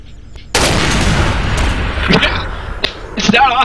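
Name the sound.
gunshot in Garry's Mod video game, M9K weapons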